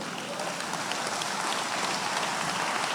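A church congregation at a Spanish-language sermon breaks into applause for the Lord, a dense, steady wash of many hands clapping that fills the whole stretch with no gaps and no talk over it.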